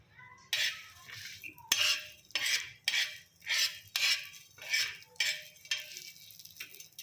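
Millet (bajra) roasting in a pan with a little oil, stirred with a utensil in about ten steady scraping, clinking strokes roughly every half second, close and clear over a low hum.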